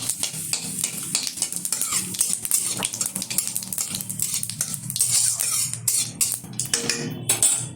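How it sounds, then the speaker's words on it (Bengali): Whole cumin seeds and a torn dried chili hit hot oil in a pan with bay leaves, making a crackling sizzle broken up by stirring and clinks of a spoon against the pot, close and uneven, with no speech. "এখন দিয়ে দিচ্ছি কিছুটা গোটা জিরে আর একটা শুকনো লঙ্কা"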